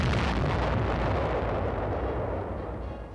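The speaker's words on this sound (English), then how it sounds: "And she's ready to fire. The great gun, the biggest of them all." A huge atomic artillery gun in the Korean War era fires one massive, loud, rumbling blast that fills the whole stretch and slowly fades, with no voices.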